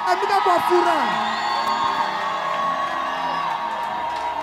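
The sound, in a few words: church congregation shouting cries of joy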